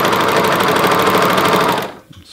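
A sewing machine runs steadily while stitching a T-shirt, a close, dense rapid whir that stops abruptly near the end, leaving quiet.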